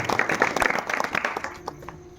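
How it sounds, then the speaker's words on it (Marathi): Audience claps during a Bhagwat katha gathering, a short burst of scattered, fairly faint applause that thins out toward the end. "सागरजी महाराज यांच्यासाठी जोरदार टाळ्या वाजवा."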